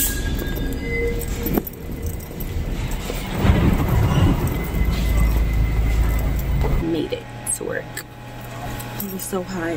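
A train pulls into a station with a broad rumbling roar that swells midway, joined by brief squealing and clatter, while a person talks nearby over the noise.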